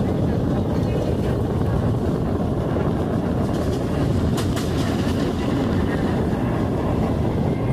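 Simhadri Express passenger train rolling through a curve near Dwarapudi, heard from on board as a loud, steady rumble and rush with wind buffeting the microphone throughout.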